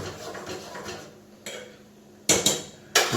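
Tea being stirred in a metal pot outdoors in a village, with a few sharp scraping clinks of spoon against metal standing out over soft background noise; no talking.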